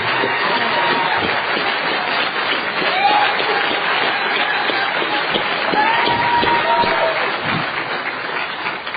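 Convention audience at a Narcotics Anonymous world gathering applauding speakers Alexander and Karen, steady dense crowd clapping with some cheering and murmured voices mixed in, sustained and fairly loud throughout.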